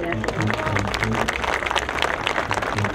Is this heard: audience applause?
yes